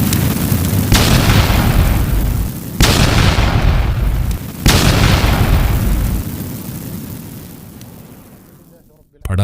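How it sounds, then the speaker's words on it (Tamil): A fire lit with a lighter bursts loudly like exploding firecrackers: three heavy booming blasts, each fading into a long crackling roar that slowly dies away. "படார் படார் என்று பொட்டி வெடி வெடிப்பது போல் வெடித்த சத்தத்துடன் எரிந்தது."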